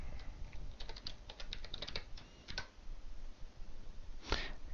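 Keys clack on a computer keyboard as a username is entered, a quick burst of light taps followed by sparser, isolated presses over quiet room hiss.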